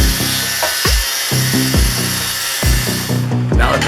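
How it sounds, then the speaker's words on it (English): Angle grinder cutting wheel shrieking through sheet metal while fabricating a frame for a 1971 El Camino, loud and close, in repeated cuts with short pauses between passes. "cutting it with the grinding wheel"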